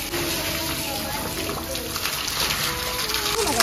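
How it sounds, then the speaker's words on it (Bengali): Water pours steadily while shoes are washed, a close continuous splashing gush that runs throughout, with a voice talking over it. "দেখতে পাচ্ছ এখন কিন্তু দিদি জল দিচ্ছে, আস্তে আস্তে আস্তে"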